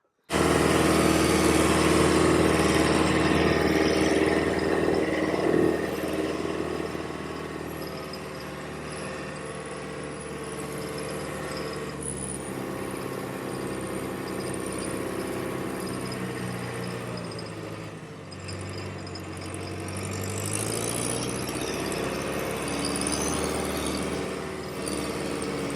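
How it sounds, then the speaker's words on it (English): Farm tractor engine running steadily during lambing season, a continuous loud droning rumble that shifts slightly in pitch as it works, close by with no talk. "hop on the tractor now and get a couple of bales out"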